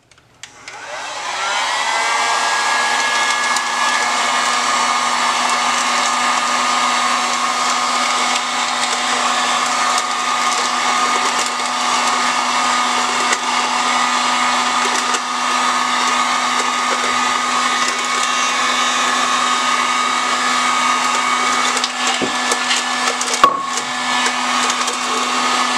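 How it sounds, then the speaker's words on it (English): A steady, even blowing roar of a heat gun on a low setting, shrinking a sublimation wrap onto a stainless steel tumbler, runs continuously at a constant pitch, loud and close, with no talking. "I'm going to take my heat gun, just on a low setting"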